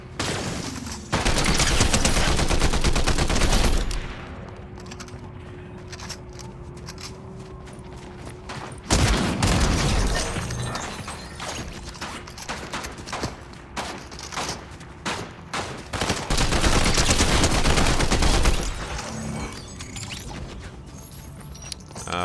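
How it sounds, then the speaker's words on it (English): Gunfire in the video game Fortnite comes in loud sustained bursts with rapid mechanical rattling between them, and the heavy volleys return several times. "Oh, you're shooting from back here."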